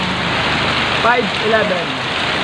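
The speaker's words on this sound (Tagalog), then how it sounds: "Hindi na natin matatapos ang ulan na to eh." Heavy rain during a storm pours in a steady, dense hiss, close and unbroken, with a voice speaking briefly over it.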